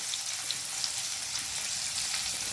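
Onion, asafoetida and green chilies fry in hot oil with a steady, dense sizzle and faint crackles, close and continuous throughout, with no voices.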